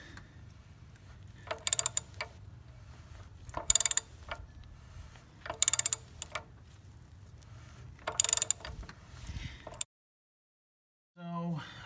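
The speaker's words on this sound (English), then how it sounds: "I'll need a 1 1/8 close-in socket, and we'll just turn that, break it loose" A 1 1/8 close-in socket on a ratchet breaks loose the fuel filter housing on a 2016 Nissan Titan XD Cummins diesel, giving four short bursts of close metallic ratcheting clicks over a quiet hum, followed by a brief silence.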